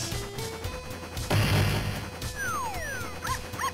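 A dog sound from a video game plays as short yips and whimpers over busy game music and effects, with a sharp crash-like burst partway through.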